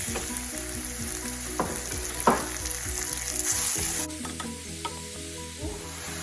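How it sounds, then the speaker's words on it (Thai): Pork frying in a pan after garlic and coriander root, a steady loud sizzle with repeated spatula scrapes and clatter as it is stirred, close up throughout with no talking. "หลังจากที่เราได้กลิ่นหอมๆแล้วเราก็ใส่หมูลงไปเลยนะคะ"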